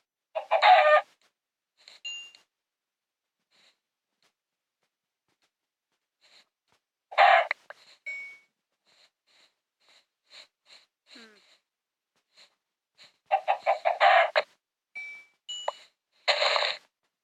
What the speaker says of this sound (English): I'm gonna go kill some chickens.